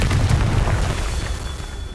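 A booming spell explosion in the video game Hogwarts Legacy, one loud, deep blast that rolls off and fades over about two seconds.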